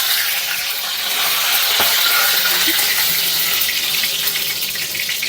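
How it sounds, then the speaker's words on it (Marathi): Cumin, green chilli and curry leaves sizzle loudly in hot oil for a Goan-style tender coconut prawn dish. The bright, continuous hiss is close up, with one brief dull knock partway through and no talking. "जिरे टाकल्यानंतर आपण टाकणार आहोत हिरवी मिरची आणि कढीपत्ता।"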